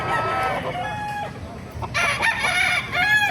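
Chickens and roosters at an open-air market in Bocaue cluck and crow loudly close by, several calls overlapping against a background of crowd noise.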